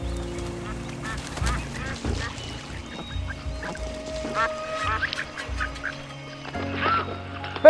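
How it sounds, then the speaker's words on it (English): A flock of ducks and geese honk and quack continuously nearby on Baiyangdian Lake, overlapping calls over a low steady background. "what stuck with me were the birds flying overhead"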